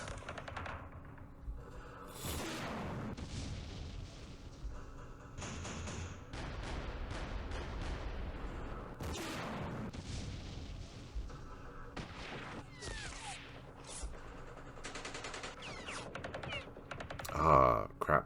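Enemy indirect artillery fire in the war game Campaign Series Middle East, set at Suez, comes as scattered booms and gunfire of moderate loudness. A person talks over them now and then.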